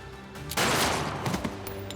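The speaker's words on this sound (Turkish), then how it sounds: "Niye vurdun adamı?" A single loud gunshot bursts out in a tense dramatic scene, a sharp close crack followed by a brief rumbling tail over a low background hum.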